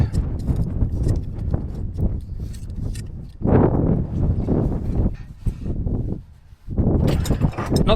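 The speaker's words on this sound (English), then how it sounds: "I'm not sure if you can hear that wind on the mic." Strong cold wind buffets the microphone in loud, rumbling gusts that come and go, with a short lull before the low roar returns in the open outdoors.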